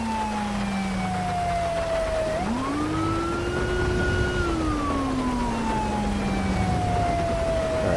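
Emergency vehicle siren in GTA 5, a steady wailing tone that dips, rises and slowly falls again across the whole stretch, loud and continuous over a constant traffic and engine rumble on a backed-up highway.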